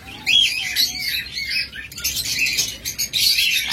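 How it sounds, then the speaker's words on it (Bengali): A pair of tame sun conure parrots in a breeding setup squawk loudly and repeatedly, shrill bursts and chirps close by, with some wing flapping between calls. "তারপর আমাদের কাছে চমৎকার এক জোড়া সানকোনো রয়েছে, টেম এবং ব্রিডিং পেয়ার"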